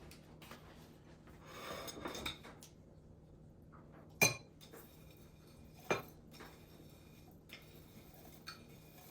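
A spoon mixes caramelized onions into French onion dip, producing faint, sparse clinks and taps against the bowl amid quiet surroundings.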